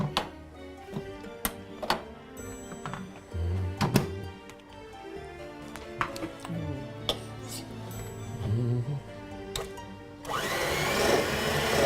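An electric mixer whirs loudly near the end, blending softened ingredients for a pumpkin treat, after a stretch of kitchen knocks and clatter.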